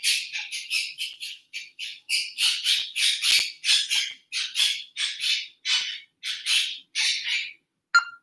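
A pet bird squawks loudly and close up in a rapid series of harsh, raspy calls, about twenty short bursts in quick succession with brief gaps and no other sound.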